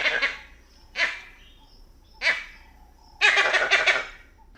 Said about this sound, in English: Eagle alarms are a series of low-pitched staccato grunts.